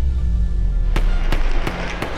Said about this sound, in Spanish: Hay balazos, hay balazos.